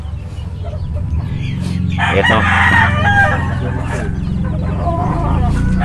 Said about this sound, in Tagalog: Parang malaking manok yan mga kamistiso.